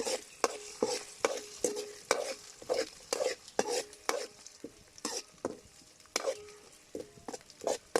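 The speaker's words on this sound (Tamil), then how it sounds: "மூணு முட்டை உடச்சி ஊற்றியாச்சு கிண்டி விட்டுக்கலாம்" A spoon stirs three cracked eggs into rice cooking in a hot pan at a village cooking setup, giving close, rapid scraping and clinking strokes in an irregular rhythm over a steady, soft sizzle, with no one talking.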